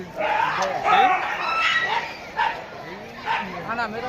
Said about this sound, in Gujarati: આપણા મુકુલભાઈ ને કૂતરો લડવા માંડ્યો